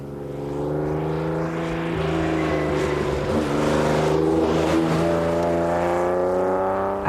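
Aston Martin engine exhaust note, a loud, close, smooth drone that rises steadily in pitch as the car revs and accelerates, heard alone with no talking.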